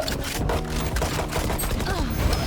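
Rapid gunfire from the game Valorant crackles in dense overlapping bursts, loud and close, with game effects layered in and no clear talk.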